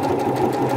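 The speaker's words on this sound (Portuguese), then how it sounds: "Eu vou fazer uma costura aqui em cima" Rapid, steady buzzing of a sewing machine stitching a seam on a dish towel, close and loud, a continuous mechanical whir with no talking.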